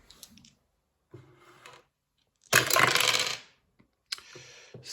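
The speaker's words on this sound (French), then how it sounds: "Du coup, ça fait que je dois lancer 2 dés." Two dice rolled in a solo tabletop board game tumble and clatter across the table in a loud burst lasting about a second, preceded and followed by softer shuffling and clicking handling noises.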